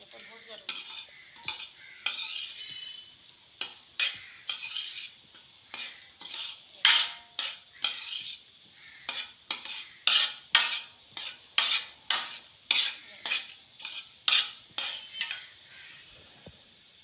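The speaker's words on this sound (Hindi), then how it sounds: "ये देखें ये दाल हमारी भून रही है, घी ऐसा ऐसा निकल रहा है इसका।" Chana dal roasting in ghee for halwa is stirred with a metal spoon in a pan, giving a long run of rhythmic scraping strokes over a faint sizzle, close and fairly clear with no talking.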